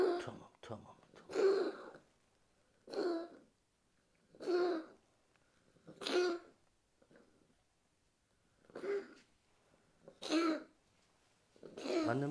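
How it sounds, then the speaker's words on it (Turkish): A kitten's short, rough coughs repeat about every one and a half seconds, fairly close and moderately loud, with brief quiet gaps between them. "Annem dur, sadece öksürüyor."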